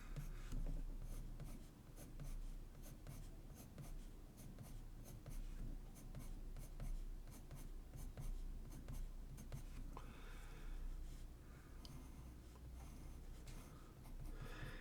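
Pencil or pen scratching steadily across paper while sketching crossbar lines in a drawing exercise, a continuous close, soft scraping with short repeated strokes and no voices.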